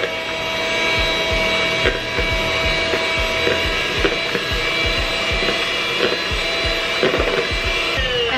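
Softened butter being mixed in a bowl for chocolate chip cookies: a loud, close, steady motorised whir with rapid rhythmic scraping knocks against the bowl, no talk.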